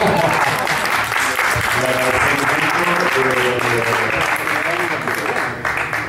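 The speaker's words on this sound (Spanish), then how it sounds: "Y un aplauso." A seated audience at a liberal profession chapter event breaks into steady, dense applause that holds at full strength before tapering slightly at the end, with a voice faintly underneath.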